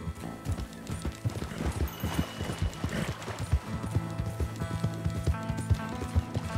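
A horse's hooves gallop in Red Dead Redemption 2, a quick, steady clip-clop rhythm of sharp thuds close up, with faint ambient patter behind and a brief whinny.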